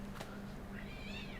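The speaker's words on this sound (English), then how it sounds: "Oh jeez, cat fight." Cats fighting indoors, a faint yowl and a drawn-out, wavering meow-like caterwaul from somewhere off, thin and distant against a low steady hum.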